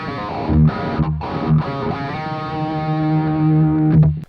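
An electric guitar riff played through a wah-wah pedal, its distorted chords sweeping as the pedal rocks up and down, with a few choppy stabs followed by a sustained ringing chord that cuts off.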